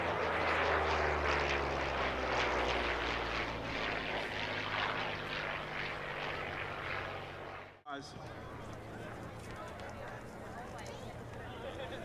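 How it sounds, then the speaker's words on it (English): A loud, steady Allison V12 aircraft engine drones with a deep rumbling roar and propeller pulsing at an air show, briefly cut off before resuming at a similar level. "This is the sound of the Allison V12 engine"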